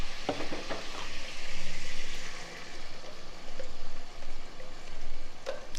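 Onion, garlic and ginger paste hits a pan over medium heat, setting off a steady, fairly loud sizzle and bubbling fry with occasional stirring scrapes.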